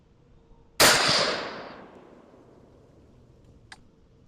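A single sharp rifle shot cracks out at a target on a shooting range, loud and close, its boom rolling away into a long fading echo, with a faint distant ping from a steel plate a few seconds later.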